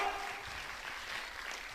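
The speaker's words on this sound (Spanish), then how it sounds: "Den un aplauso al Señor" Quiet, steady applause from a congregation during a Spanish-language church service, heard at a distance, with a faint voice mixed in.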